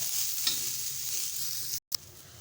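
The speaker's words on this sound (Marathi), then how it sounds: "आता दोन चमचे तेल घालायचे आहे आणि कांदा लालसर होईपर्यंत आपण भाजून घ्यायचा आहे" Onion frying in oil in a hot pan, a steady close sizzle with stirring scrapes, broken by a brief gap near the end.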